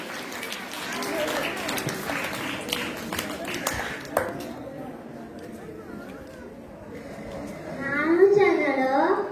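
An audience claps at a school Republic Day celebration, a burst of scattered hand claps over the first few seconds that thins out, followed by a voice and tonal sounds over a quieter background.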